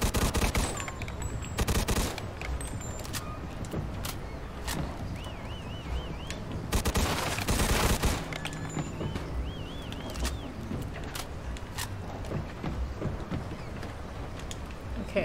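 Enemy gunfire in the Mafia II video game, dense, sustained automatic shooting and loud bursts throughout, mixed with game effects and sounds.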